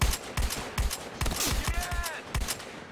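Gunfire in Battlefield Hardline multiplayer, a rapid series of close, sharp shots in uneven bursts filling the moment, with a brief ricochet-like whine partway through.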